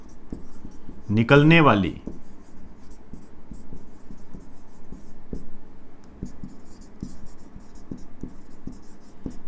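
Pen writing a line by hand on paper, a soft steady scratching with small repeated strokes running throughout, close and quiet, with a brief stretch of talking near the start.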